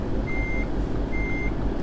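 A truck in American Truck Simulator backs up with a trailer: two evenly spaced electronic reversing beeps ring out over a loud, steady low engine rumble, with no voices.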